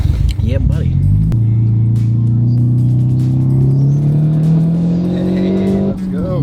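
A one-rotor Mazda Speedster running with added compressor boost drives hard, its engine tone holding steady and then climbing through a long pull, loud and close, with voices speaking briefly over it.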